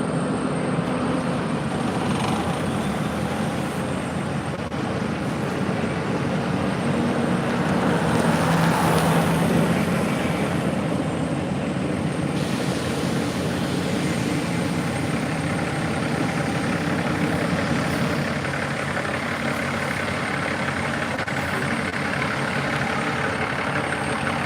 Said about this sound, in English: a lot of trucks going in and out